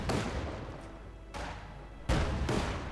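Gunfire and artillery booms from a Company of Heroes 2 battle, loud, dense rumbling volleys with a sharp heavy blast near the end.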